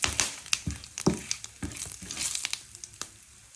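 Whole spices fry in a pan for an aloo paneer curry, with irregular crackles and scraping stirs that are fairly faint and close.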